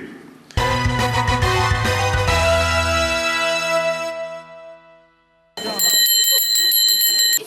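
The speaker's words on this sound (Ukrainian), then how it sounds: "Перший дзвінок тут пролунав для понад двох десятків місцевих дітлахів." An electric school bell rings out at a frontline village school on the first day of classes, loud and sustained for several seconds, fading, then a second burst of bright ringing starting after a short gap.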